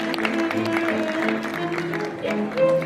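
An audience applauding at a bridal fashion show, steady clapping spread across the room under music with sustained tones, fairly loud throughout.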